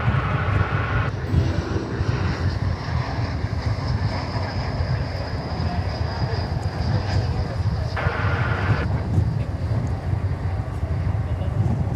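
An Airbus A321 arriving at DFW Airport in the evening makes a steady, loud jet engine roar that holds throughout at close range.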